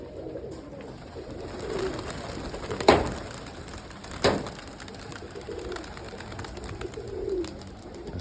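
Soft cooing of young roller pigeons over steady outdoor background noise, with a couple of brief louder bursts and faint rustling; no talking.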